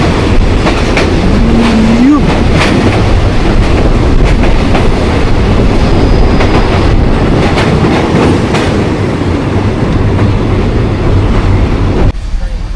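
A passenger train runs from Bangkok to Chiang Mai in Thailand. Loud, steady rumbling and rattling of the carriages carries on with a rhythmic clatter of wheels on track, and a brief horn-like tone sounds early on.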